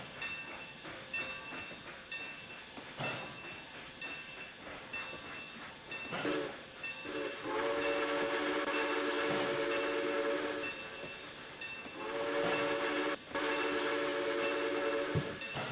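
A K&L Trainz steam locomotive model in Trainz A New Era, hauling a C&O coal run, steadily hisses and chuffs with a sustained steam whistle blowing twice, loud and close, with no talk.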